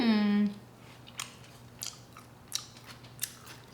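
Someone bites into a hot slice of homemade BBQ chicken pizza, then chews in a few soft, crisp crunches spaced out across a quiet moment, close up, after a brief voice at the start.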